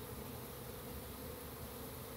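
Honey bees buzz in a steady, close, dense drone that holds at an even level throughout, with no other sounds breaking through.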